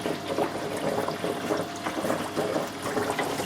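Water runs steadily from an aquarium tank into its filter as the filter fills, a continuous close gurgling and rushing flow with gentle pulsing.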